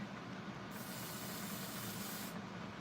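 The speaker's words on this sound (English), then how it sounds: "So blast it with a little bit of hairspray." A single continuous hiss of hairspray blasted from an aerosol can onto a thin area of a craft base. It lasts under two seconds, close and fairly faint, with no voices.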